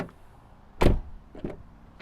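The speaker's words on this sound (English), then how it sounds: "So both doors open very wide" A 2024 Dacia Jogger Hybrid car door gives a single solid, close thunk, followed a moment later by a softer, lighter clunk, with quiet surroundings and no speech.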